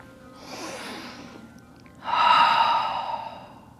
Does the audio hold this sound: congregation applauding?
no